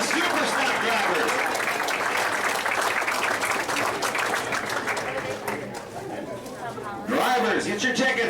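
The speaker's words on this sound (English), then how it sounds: "Give a big round of applause for all the Super Stock drivers." Racing banquet crowd for a county speedway applauds the Super Stock drivers, steady clapping mixed with chatter that dips midway, then a voice speaks over the room near the end.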